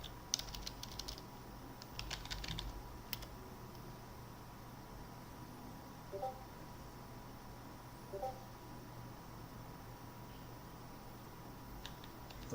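A computer keyboard gives quiet, scattered keystrokes, clustered at the start and then sparse, against a faint hiss.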